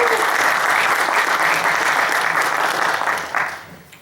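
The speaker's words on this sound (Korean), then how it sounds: "박수로 모시겠습니다" An audience welcomes a baseball commentator at a talk on pitch types with loud, continuous applause that holds steady for several seconds, then tapers off at the end.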